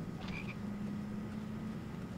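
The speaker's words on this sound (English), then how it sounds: "I got 5 chocolate frogs." A chocolate frog in the Original Xbox game Harry Potter and the Goblet of Fire gives a brief, faint croak near the start. A low, steady game ambience hum continues underneath.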